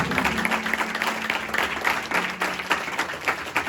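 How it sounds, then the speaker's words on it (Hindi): Church congregation at an Easter sermon claps together, a lively sustained crowd clapping with audible individual slaps and a low held tone in the background. "जितनी खुश हो तुम लोग उतनी जोर से ताली बजा दो जितना आज खुश हो।"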